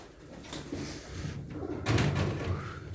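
White Adana pigeons coo in low, soft repeated calls close by, with a few sharper knocks and rustles around them and no talk over them.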